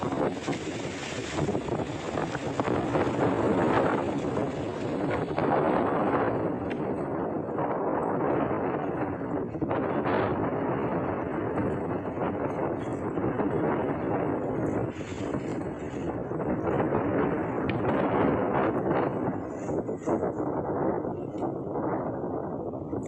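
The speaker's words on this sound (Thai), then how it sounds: "ตรงนี้ลมแรงมากนะครับ" Strong gusts batter the microphone on the mountain Doi Lo Po Her, producing a continuous roaring buffet that surges and dips throughout, with no clear voices.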